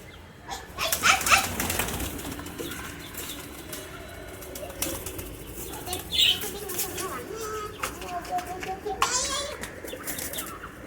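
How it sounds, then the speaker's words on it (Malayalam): A pigeon flaps down on its own, a burst of rapid wingbeats near the start followed by a few more flutters and soft coos at a farmyard feeding spot where chickens are kept, with quiet talk underneath. "ഈ പ്രാവ് കണ്ട തനിയെ പറന്നിറങ്ങിയതാണ്"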